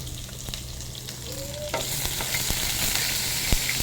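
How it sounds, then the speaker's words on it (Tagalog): Mixed vegetables stir-fried in a pan, a close, continuous sizzle that swells louder partway through, with scraping and tapping from stirring on top. "Luto tayo ng stir fry na gulay, mixed vegetables."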